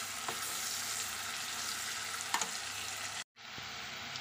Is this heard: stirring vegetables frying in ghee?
yes